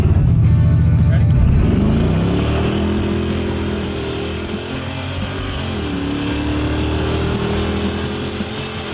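A Cadillac with a 400 engine and fender-exit exhaust revs hard and pulls away under manual shifting, a loud, throaty roar that climbs and drops through gear changes, with voices briefly over the start.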